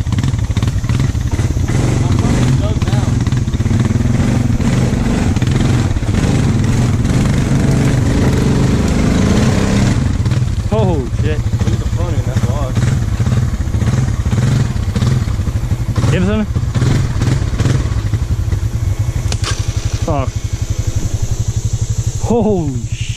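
A four-wheeler ATV engine roars continuously at high revs through a wooded trail, loud and close, with rattling clatter and surging pitch changes as it works over rough ground; voices shout briefly under the engine noise.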